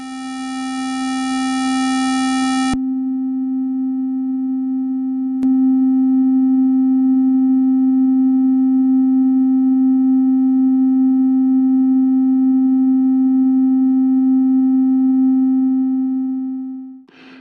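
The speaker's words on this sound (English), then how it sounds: "I say analog sine because, like with real hardware analog synths, the sine wave is not a pure one with only one frequency in its spectrum" A SoloRack software oscillator holds a steady analog-style sine tone at a constant pitch, loud and unbroken, with faint upper overtones throughout; a brief click sounds partway through, and the tone cuts off abruptly at the end.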